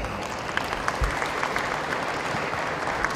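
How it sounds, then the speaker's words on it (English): Applause from an audience at a Jersey dairy cattle spring show, honoring youth exhibitors; steady, moderately loud clapping from many hands fills the whole stretch without speech over it. "Let's give these youth exhibitors a big round of applause."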